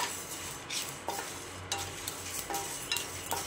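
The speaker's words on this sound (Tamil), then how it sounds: "பாருங்கள், நல்லா பொரிஞ்சு வருது. நல்லா வறுபடட்டும், கைவிடாமல் கிளறணும்." Fenugreek, coriander seeds and cumin dry-roast in a pan while being stirred constantly, with a close, continuous dry rustling and scraping and occasional light crackles.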